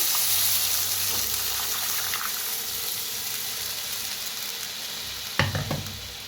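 Buttermilk poured into hot oil tempering with turmeric for kadhi, giving a loud steady sizzle that fades slowly, with a sharp burst of stirring and clatter near the end.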